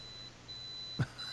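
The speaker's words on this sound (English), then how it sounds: "There's your alarm." A faint, thin electronic beep sounds steadily in the background, followed by a couple of short knocks or clicks near the end.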